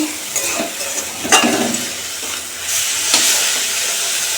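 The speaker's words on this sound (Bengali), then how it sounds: "এখানে পেঁয়াজ দিয়ে শাক ভাজা হচ্ছে" Greens frying with onion in a pan give off a continuous close sizzle and hiss, with a few sharp bursts of crackle and stirring scrapes along the way.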